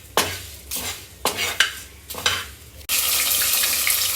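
Spice paste for meat toasts in a pan as a spoon scrapes through it in several uneven strokes, then a loud, steady sizzle takes over. Close by, with no voices.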